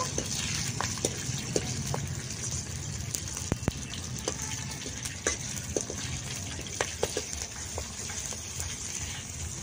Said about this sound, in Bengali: কড়ার মধ্যে সর্ষে দিয়ে দিচ্ছি। আর দেবো চিড়ে রাখা কাঁচা লঙ্কা। এইগুলোকে একটু আমি ভেজে নেব।